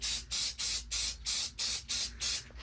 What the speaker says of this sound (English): I'm gonna spray all this down till it turns black.